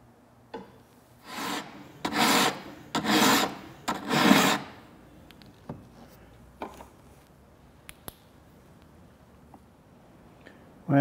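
A metal file rasps across a steel drawknife blade in four firm, evenly spaced strokes. Fainter scrapes and taps follow, all close up in a quiet shop.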